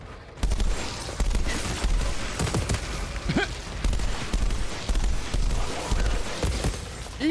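SMG fire in the Outriders shooter campaign sounds as rapid, sustained bursts of automatic gunfire mixed with impacts and combat noise, loud and continuous across the scene.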